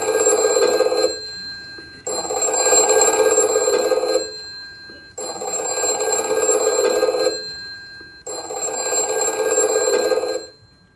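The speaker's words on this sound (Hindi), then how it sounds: "तो फोन बज रहा है," A telephone bell rings four times in long, even bursts separated by short silences, loud and close.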